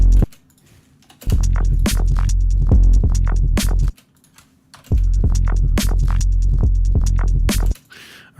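A DC pop driven through an electronic music mix as a sidechain produces repeated sharp clicks and thumps over a pumping low hum. The pulsing stops briefly twice, then resumes.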